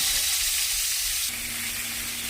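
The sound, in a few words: eggplant pieces frying in oil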